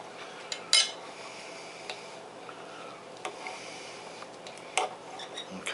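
Cutlery clicks and scrapes against a plate while someone cuts open pan-fried cubed steaks topped with butter, onion and bacon. The sharp, close ticks come at an irregular pace with quiet gaps between them.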